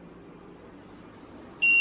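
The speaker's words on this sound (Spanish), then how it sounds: "Ahora, se pasó los 13 grados centígrados, así que sonó la alarma." A temperature sensor alarm on an electronics project goes off once the reading passes 13 degrees Celsius, a single steady high beep that starts abruptly and holds over a low background hiss.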